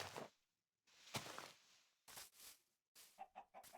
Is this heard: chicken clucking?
yes